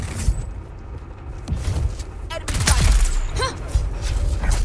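Gunfire in the video game Dune Awakening: a few loud, sharp shots in a short burst with a rumbling low layer, set against a busy game soundscape, with a voice briefly speaking.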